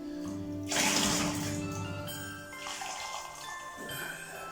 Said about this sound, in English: Okay, go with our boiling water now